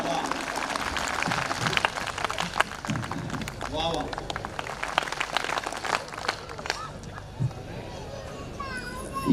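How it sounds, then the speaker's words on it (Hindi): An audience at a Hindi comedy poetry gathering (hasya kavi sammelan) claps for a poet in scattered bursts amid crowd bustle and murmuring voices, with people talking over it. "तालियां पूरे सदन की एक बार बज जाएं ताकि उनका मूड बन जाए।"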